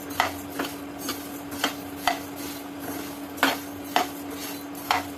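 Dry whole spices for homemade garam masala being stirred and roasted in a metal pan, with sharp periodic clinks and scrapes of the utensil against the pan over a steady low hum, no talk.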